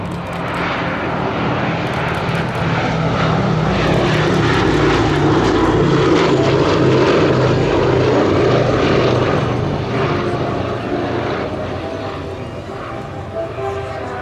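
A B-17 Flying Fortress bomber's four piston engines roar steadily on the runway at a Battle of Britain airshow at Headcorn, a loud, continuous propeller drone that swells and then eases slightly toward the end.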